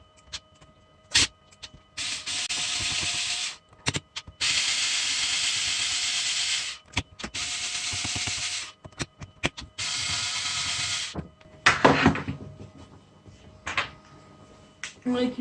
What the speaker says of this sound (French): Avec un embout de taille 5, je vais dévisser les 4 vis qui sont ici.